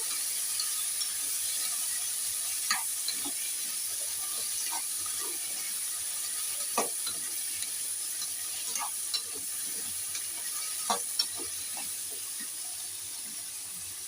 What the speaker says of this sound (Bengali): এবার আমি এটা একটু ভালো করে নেড়ে দেবো।